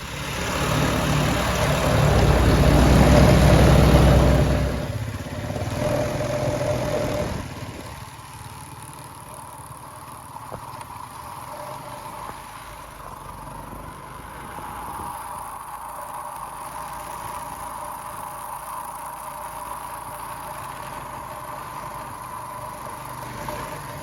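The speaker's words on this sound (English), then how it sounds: "I will roll some cool footage of us on the four-wheelers getting in here" ATVs (four-wheelers) ride in on a backpacking trip, starting as a loud, close, rumbling engine roar that fades after a few seconds into a steadier, quieter engine drone in the background.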